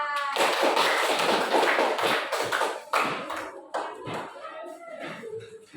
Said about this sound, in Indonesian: tepuk tangan dulu dong buat kelompok 3